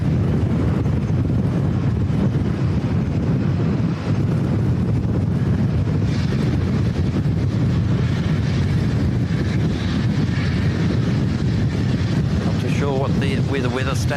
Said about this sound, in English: the wind is definitely stronger than 29 k's an hour. It's got to be gusting well over 50.